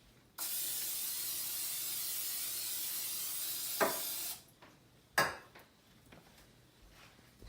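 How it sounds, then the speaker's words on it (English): A long, steady hiss of non-stick cooking spray into a muffin pan lasts about four seconds, followed by a couple of light metallic clinks from the pan. "I have a muffin pan, and I'm just gonna spray it with some non-stick oil"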